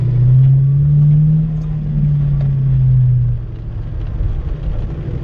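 Deep throaty engine of a manual car revving hard during a burnout in pouring rain, holding high for a few seconds, then dropping to a rumbling idle with gritty tire-and-exhaust noise, close by.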